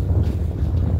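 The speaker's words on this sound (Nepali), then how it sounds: "समुद्रको चिसो हावा छ" Cold sea wind buffets the microphone on a beach in Denmark, a steady low rumbling roar that stays loud and continuous throughout.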